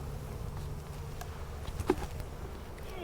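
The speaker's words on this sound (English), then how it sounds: "So the bees are working on all 3 of these supers" Honey bees buzz around hive supers during a honey harvest, a soft, steady drone of many wings close by with a few brief knocks and a sharp tap at the end.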